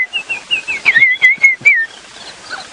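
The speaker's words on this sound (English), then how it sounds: "We can hear a white-browed scrub robin off to the side there." A white-browed scrub robin delivers a clear, whistled phrase of rising and falling notes, fairly close and loud, over quiet safari-drive background at a game reserve.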